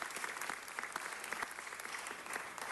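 An audience at a city council meeting breaks into steady applause, a sustained wash of many hands clapping at moderate loudness, without talk over it.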